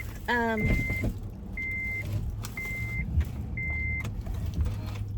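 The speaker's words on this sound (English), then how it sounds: "I'm about to start my car just so that I can get the fly out my window." A car engine cranks and catches with a short rising whirr, then settles into a low idle while a series of evenly spaced electronic beeps chime over it.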